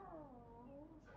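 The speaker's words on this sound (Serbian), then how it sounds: "Mačka." A cat gives a single drawn-out meow, faint and close.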